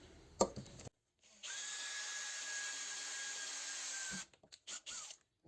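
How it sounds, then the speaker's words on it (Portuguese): A power drill with a thread-forming bit drills the first hole, a short click and pause, then a steady high whine lasting about three seconds before stopping, followed by a few brief taps. "vamos fazer o primeiro furo aqui"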